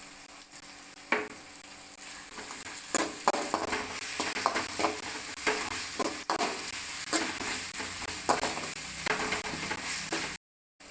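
Onions sautéing in a hot pan for paneer pepper fry, a continuous close sizzle with intermittent scrapes and taps of a spatula stirring, cutting off abruptly near the end.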